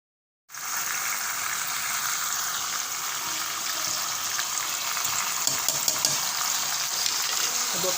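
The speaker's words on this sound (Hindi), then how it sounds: "जब गोश्त को फ्राई कर लेंगे तो मसाले शामिल कर देंगे।" Mutton pieces fry in a pot with garlic-ginger paste and spices, giving a steady, close, crackling sizzle that starts abruptly. Occasional stirring clinks come from utensils against the pot.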